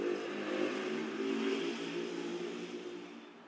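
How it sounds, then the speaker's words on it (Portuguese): A loud modified motorcycle with a tuned exhaust passes by, a steady engine roar holding for several seconds and slowly fading toward the end. "Vai passar uma moto agora."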